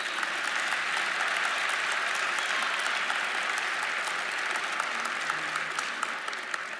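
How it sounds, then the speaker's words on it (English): Loud, sustained applause from a large crowd at an MLK Day luncheon fills the whole stretch, steady and dense without a break. "give yourself a round of applause for being the oldest and the baddest"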